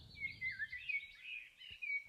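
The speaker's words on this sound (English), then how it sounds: "Bird sounds." A bird-call sound effect played from a looper pedal in a home studio: a few quick, bright chirping tweets that warble and repeat in short bursts, fairly quiet against a low background rumble.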